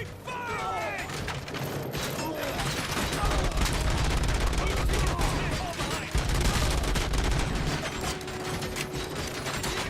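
Dense, continuous gunfire in the RoboCop: Rogue City video game, a loud sustained fusillade of rapid shots with clanking mechanical sounds, and brief voice-like tones near the start.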